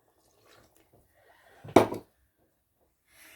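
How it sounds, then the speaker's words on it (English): Water poured into a pan of melted butter gives one short, close splash and sizzle-like burst lasting a fraction of a second, with faint kitchen clatter before it and quiet after. "And then you pour the water in."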